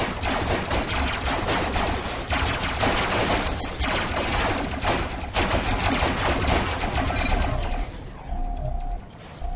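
Dense, continuous SMG gunfire from a Robocraft battle rattles on loudly with overlapping bursts and explosions for most of the stretch, thinning out near the end.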